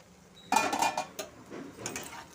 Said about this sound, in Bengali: এবার কিছুক্ষণের জন্য ঢাকা দিয়ে দিচ্ছি